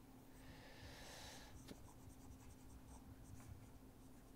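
Pen or chalk scratches softly as someone writes by hand during an electrical engineering lecture on shunt motor speed control, faint short strokes over a low steady hum with no talking.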